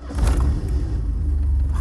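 A Chevrolet Kadett GSI engine rumbles loud and close, a strong low drone that swells in the first moments and then settles into a steady idle, with no voices over it.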